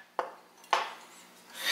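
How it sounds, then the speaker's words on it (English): Italian sausages tossed into a nonstick frying pan: two quick, fairly faint thuds and clatters close by, followed by a soft rising sizzle. "Throw these Italian sausage bombs in the frying pan."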